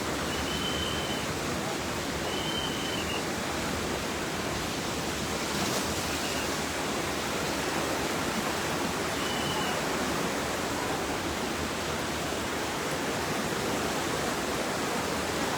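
Fast, swollen flood water of the Khowai river rushing past a railway line, a steady broadband roar that holds unbroken throughout with no talk over it.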